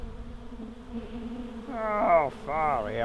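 Honey bees buzz around a homemade top-bar hive built from an old fridge, a steady close droning hum as a person briefly exclaims over it.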